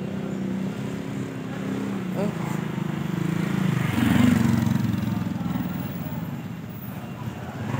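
Motorcycles ride past on a street, engine drone rising and falling as one passes close midway. People talk nearby over the traffic.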